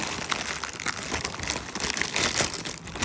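Plastic packaging crinkles and crackles continuously as a package holding a Super Mario figure is unwrapped up close, with rustling bursts throughout and no talking.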